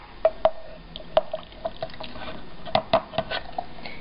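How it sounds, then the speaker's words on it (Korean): Lemon juice pours into an egg cup as a scattered series of small, close drips and splashes, irregular and fairly quiet, with no voices. "그 다음 이 레몬즙을 계란컵에 따라줍니다."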